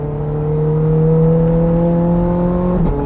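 Ferrari 430 Scuderia engine droning loudly from inside the car while driving, a steady sustained hum with strong tonal bands that holds pitch and then dips slightly near the end, with no voices over it.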